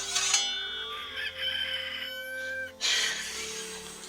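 A rooster crows loudly up close, a drawn-out cock-a-doodle-doo sounding over a faint steady background hum.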